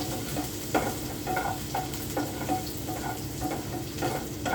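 Onions hit a hot pan for a carrot potato stew and are stirred, with a loud, close, constant sizzle and repeated rhythmic scraping strokes of the spoon.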